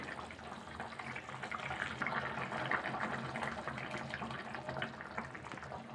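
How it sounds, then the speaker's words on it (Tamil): Water streams steadily into a pan of simmering tomato kurma with coconut paste, a continuous close splashing and bubbling pour lasting about six seconds. "கொஞ்சமாக தண்ணி சேர்த்து அதையும் சேர்த்துடலாம்."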